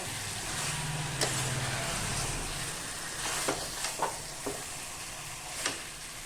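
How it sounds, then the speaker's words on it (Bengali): Chicken sautéing in a pan over a low-medium gas flame, a soft steady sizzle with a few sharp clinks and scrapes of a spatula stirring the meat, fairly quiet and close. "এবার গ্যাসের ফ্লেমটা লো টু মিডিয়াম করে দিয়ে আরো কিছুক্ষণ ধরে মাংসটাকে কষিয়ে নেব"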